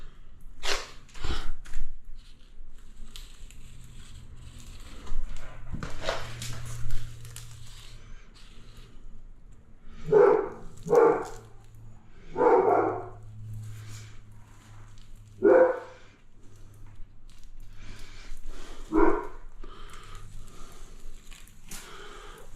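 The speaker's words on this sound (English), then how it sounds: "Yes, we've got a big dog." A big dog barking, several separate deep woofs spaced irregularly with quiet gaps between them, set against a dim outdoor background with some faint other noises.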